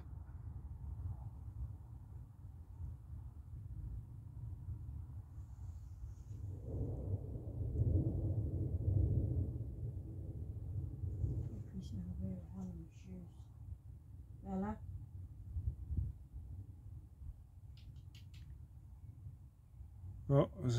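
Distant thunder during a thunderstorm rolls as a long, low rumble that swells midway and then fades, with faint scattered sounds and brief noises over it near the end.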